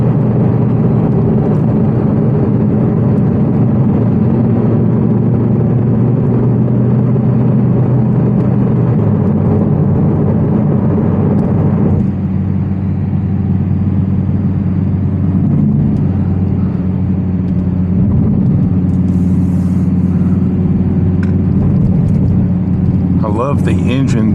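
A 2023 Audi R8 V10 Spyder's naturally aspirated V10 engine, mounted behind the occupants, drones loudly and steadily through the cabin, its pitch shifting partway through as the car changes pace.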